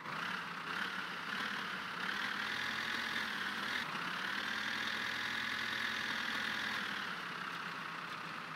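A tractor engine idles steadily in the My Summer Car video game, a continuous mid-pitched rumble with a slight shift partway through, at moderate level with no talk.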